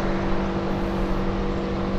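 A 2024 Subaru Crosstrek with a 2.5-liter engine and CVT accelerates hard, giving a loud, steady droning engine roar heard from inside the car.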